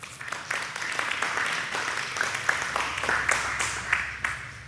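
Audience at a Q&A talk on evil clapping together in a hall, a steady round of applause lasting several seconds with a few sharper claps rising out of it.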